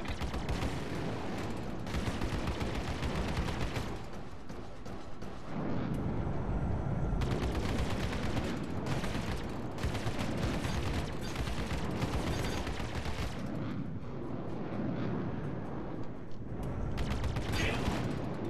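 Spaceship weapons and missiles firing in the space combat game Star Citizen, a dense, continuous roar of blasts and rumbling explosions that fills the whole stretch at steady loudness, with brief dips in between.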